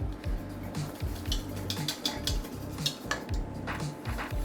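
A spoon stirs mac and cheese sauce in a pan that is being held steady, giving repeated close metallic scrapes and clinks against the pan in a brisk rhythm, with no voices.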